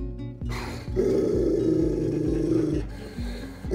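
A dog's low, rough growl rumbles steadily for a few seconds, with a rhythmic thumping beat underneath.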